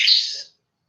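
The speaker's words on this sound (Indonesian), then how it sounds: "ini burungnya sering datang pagi-pagi gini nih, kepalanya coklat" A brown-headed bird calls once on a morning visit, giving a single bright, short chirp close by that ends abruptly.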